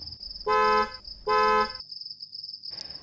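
Two loud car horn honks, each about half a second, sounding close at a forest checkpoint on a night forest road, over a steady high insect chirp.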